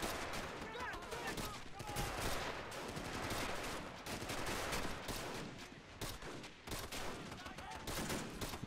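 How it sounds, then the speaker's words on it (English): Dense machine gun fire rattles almost nonstop through a Men of War: The Pacific mod battle storming Shuri Castle, with overlapping bursts and other gunfire forming a loud, continuous wall of combat noise. "Machine gun still covering the center of the garden. Damn, look at all this fire."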